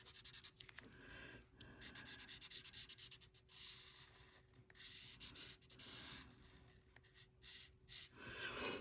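Marker or pencil coloring in a printed debt tracker chart, with steady close scratchy rubbing strokes repeating over several seconds, broken by short pauses.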